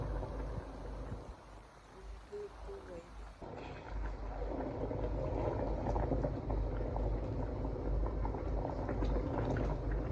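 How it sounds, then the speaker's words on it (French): A pot of okra gumbo with crab simmers with a steady, bubbling burble that grows fuller partway through. Muffled voices sit faintly in the background. "là j'ai déjà rajouté le gombo, en train de mijoter"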